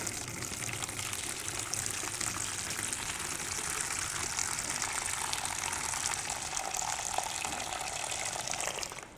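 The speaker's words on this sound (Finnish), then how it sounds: "otetaan täältä kanisteri kiinni ja tyhjennetään vesi" Water pours steadily from a canister into a container while cleaning an ironing station, a continuous splashing gush lasting several seconds with no talk.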